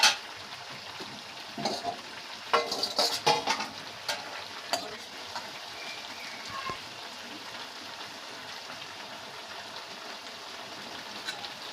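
A spiced vegetarian vegetable curry cooks in a pan with water, bubbling and sizzling softly; a few louder clatters and splashes come early, then a quieter steady simmer.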